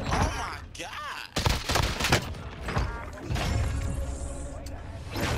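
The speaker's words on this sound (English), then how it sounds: "There is the DMR gameplay." DMR rifle fire in Call of Duty Warzone, a cluster of close, punchy shots and impacts mixed with dense game noise while players talk over the action.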